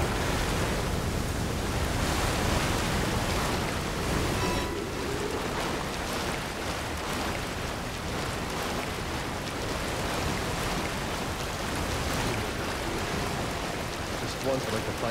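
Sloshing water and steady broadband splashing fill the scene in Resident Evil 6 as characters wade through a flooded area, loud and continuous throughout with a dense noisy wash.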